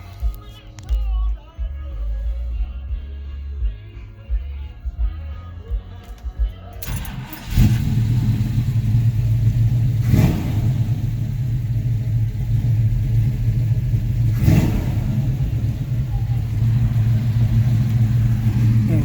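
Some handling noises and rattling, then a restored 1979 Chevrolet Scottsdale pickup truck engine fires up and settles into a deep, steady rumble with a couple of swells in revs.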